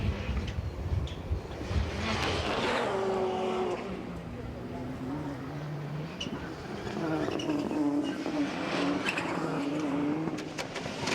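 Rallycross cars racing on a loose-surface circuit in the 2016 British Rallycross Championship, engines roaring and revving continuously at mid distance, with a commentator talking over the noise throughout.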